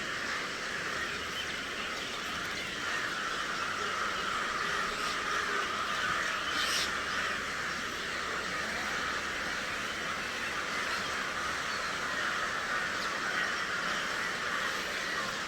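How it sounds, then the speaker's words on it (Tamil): A large flock of crows calling together at dawn, a dense steady wash of caws and chatter with no single bird standing out, continuous and moderately loud throughout. "மொத்த சவுண்டு தான் உண்டாகும் காக்கா வருது."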